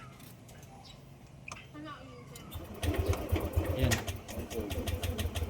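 Yamaha NMAX scooter engine with a hard-start fault, sputtering and surging unevenly at a rough idle before picking up louder, close by with someone talking over it.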